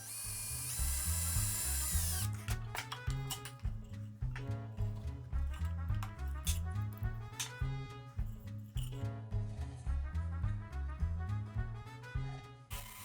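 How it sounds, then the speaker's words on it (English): A power drill whines up to speed, then bores a 1/8 inch hole in wood in repeated bursts, the motor pitch rising and dropping with each push through the material, loud and close. "Now I'll drill a 1/8 inch hole towards the bottom of the notch"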